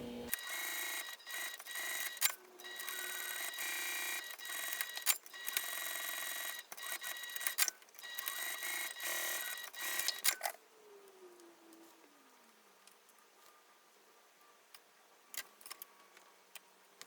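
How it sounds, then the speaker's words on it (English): A sewing machine top stitching along the edges of a clear vinyl snap project runs in a steady, busy whir for about ten seconds, then stops, leaving near quiet with a few faint clicks. "I will be top stitching 1/8 of an inch away from the 4 top edges."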